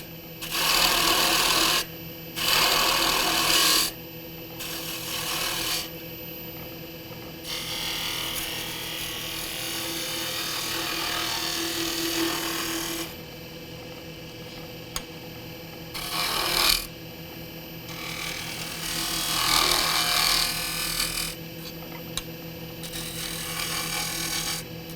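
A wood lathe turns a bead on the end of a wooden kitchen scoop, giving loud bursts of rasping, scraping cuts separated by short pauses over a steady motor hum, with no talking.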